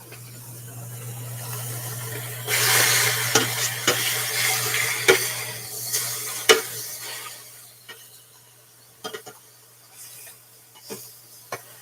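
Ground meat breaks up and sizzles in a hot pan while a utensil scrapes and knocks against it in irregular bursts, over a steady low hum, with no talking.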